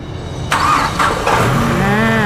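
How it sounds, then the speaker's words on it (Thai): A 2013 Ford Ranger pickup truck with its original engine starts up close by, a short cranking whir and then the engine catching into a steady, even idle, loud and with no talking. "เดี๋ยวสตาร์ทเครื่องได้เลยค่ะ"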